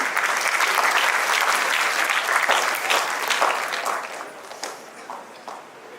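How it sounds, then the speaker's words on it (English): An audience at a national-level school debate and awards ceremony applauds a team, a full burst of clapping that stays loud for a few seconds and then thins and fades toward the end. "A round of applause for them, please."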